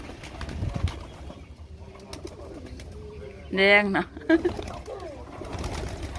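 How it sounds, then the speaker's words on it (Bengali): A pigeon gives a short, throaty coo midway through, close by, while people talk quietly and other faint sounds stir in the background as pigeons come to feed. "দেখো এখানে এরা পায়রাগুলো খেতে চলে এসছে"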